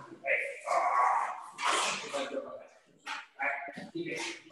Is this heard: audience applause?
no